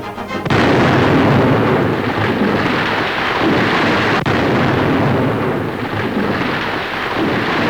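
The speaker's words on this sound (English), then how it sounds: "they're blasting a path through a wilderness never before conquered by man." Blasting for a military highway through untamed jungle wilderness: a sustained, loud, rumbling roar of explosions that swells in abruptly and rolls on continuously without pause, heavy and booming like distant thunder.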